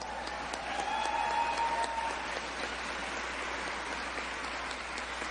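Steady applause from a crowd of seniors at a Jill Biden campaign event in Reno, a sustained patter of many hands clapping that stays fairly faint and even throughout.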